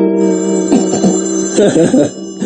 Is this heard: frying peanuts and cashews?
no